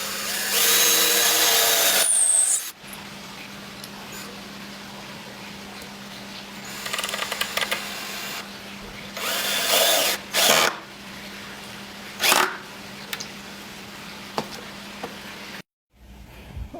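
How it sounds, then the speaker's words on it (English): A power drill boring pilot holes into a wooden gate's Z-frame for deck screws, loud whirring bursts, the longest at the start and shorter ones later, with quiet pauses between. "now I'm going to drill a pilot hole in the wood here"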